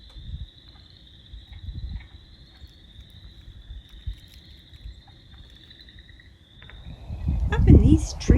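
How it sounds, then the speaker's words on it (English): Spring peeper frogs at a pond form a steady, high, shrill chorus that runs unbroken throughout, with soft rustling and low thumps underneath and heavier handling noise near the end. "We get down to this pond and hear little bitty frogs called spring peepers."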